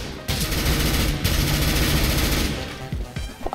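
Rapid automatic gunfire in the video game Counter-Strike: Global Offensive, a loud sustained burst of rattling shots that runs almost continuously, pauses briefly, then trails off into a few scattered shots near the end.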